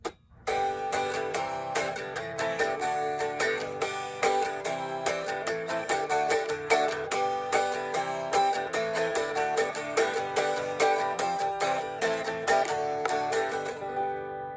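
Steady, upbeat guitar strumming of a chord progression, played close and fairly loud with an even rhythmic pulse and no voices throughout.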